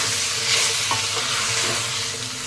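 Raw chicken is stirred into sautéed ginger and garlic in a pan for a Tamil chicken gravy, making a loud, close sizzle with soft scraping and clattering of the spoon throughout.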